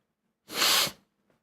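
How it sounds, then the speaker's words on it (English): A single close, loud sneeze, a half-second breathy burst followed by a faint sniff, with no talk around it. "I can't stop sneezing."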